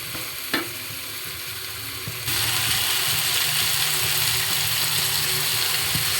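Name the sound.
stirring string beans sizzling in a pan for pinakbet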